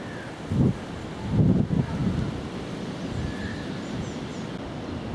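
Wind blowing across the microphone on a countryside walk near Bamford, a steady rushing roar with louder gusts early on, no talk.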